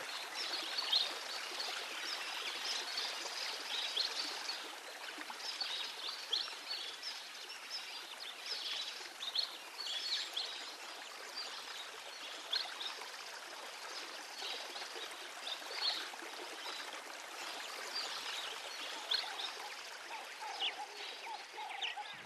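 Water in a bush river flows and trickles steadily, a soft continuous babble heard at a moderate distance with no voices.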